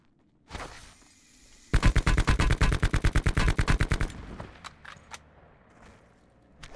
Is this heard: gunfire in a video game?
yes